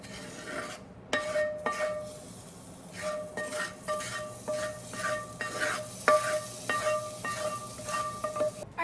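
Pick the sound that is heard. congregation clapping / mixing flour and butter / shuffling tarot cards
mixing flour and butter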